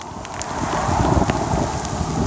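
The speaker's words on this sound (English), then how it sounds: "It's not rain, it's hail." Hail falling outdoors in Lincoln City, Oregon, a steady dense patter of hard pellets striking surfaces, continuous and fairly loud with a windy rush underneath.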